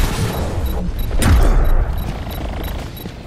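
Junkrat's bombs bursting in Overwatch on the Numbani map, with a heavy low boom peaking near the middle amid a dense, continuous game-fight background.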